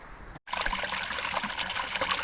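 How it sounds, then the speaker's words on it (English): Runoff water trickles beside the Spruce Flats Falls trail in the Smokies, a faint, continuous close-up splashing that starts just after a brief cutoff. "That's a little bit of runoff"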